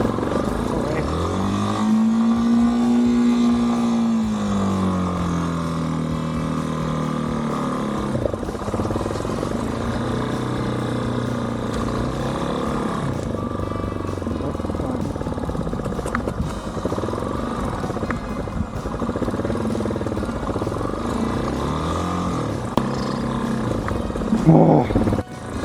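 A motorcycle carries a rider on a road trip from Colombia into Ecuador near Cotopaxi. Its engine drones steadily throughout, with a rising and falling tone early on, under rushing wind and road noise.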